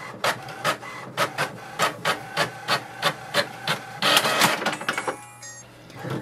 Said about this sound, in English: it sends a command to print the printer information page